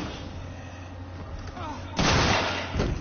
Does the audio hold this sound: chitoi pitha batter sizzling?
no